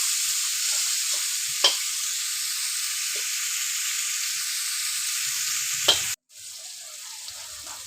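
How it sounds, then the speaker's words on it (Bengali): Mango pickle mixture frying in a pan, a steady bright sizzle with occasional scrapes and knocks of a spatula stirring it, close and continuous, briefly cutting out near the end. "ভালো করে একদম খুন্তি দিয়ে নাড়বো, ভালো করে ঘাটবো"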